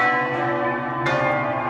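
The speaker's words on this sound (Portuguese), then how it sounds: "quando os sinos começam a tocar com essa sonoridade solene aqui na Igreja do Rosário" Church bells ring solemnly at Igreja do Rosário, a sustained, resonant peal with layered overtones and a fresh strike about a second in, steady and fairly loud with no talking.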